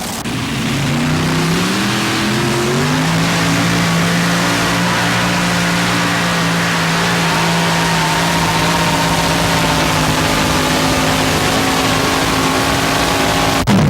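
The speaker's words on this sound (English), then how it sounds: "They're going to run one more tractor before the track crew decides whether or not to reset the sled." A modified pulling tractor engine at a 1987 truck and tractor pull in Fort Wayne, Indiana roars loudly and continuously, rising in pitch early on and then holding a steady, heavy drone.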